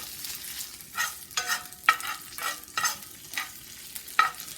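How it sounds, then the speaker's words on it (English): Diced ham frying in canola oil in a pan, with a steady sizzle broken by several bursts of stirring scrapes, all close and at moderate level. "I'm through frying my ham"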